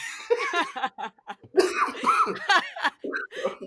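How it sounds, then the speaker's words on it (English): Several harsh coughs and throat-clearing sounds come in bursts, close and loud, mixed with a little talking and laughter. "you might want to edit out those coughs"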